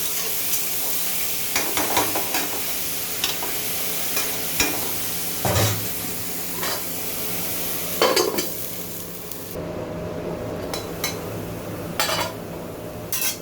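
Dheki greens cooking in a pan as their leftover water dries off, with a constant bubbling sizzle and repeated scraping, stirring clinks of a utensil against the pan, close and loud, with no talking.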